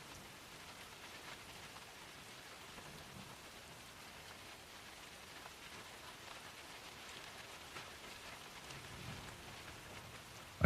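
Steady rain falls as a soft, even hiss with no breaks, holding at a constant low level throughout and with no voices or other sounds.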